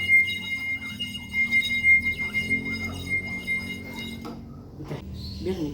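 A drinking glass partly filled with water rings with a thin, sustained high tone after being struck, with soft taps and faint room noise beneath and the ring fading near the end.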